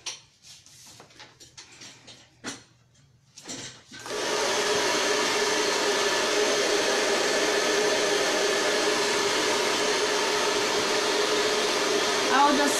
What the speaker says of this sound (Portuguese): O secador está na hora da morte.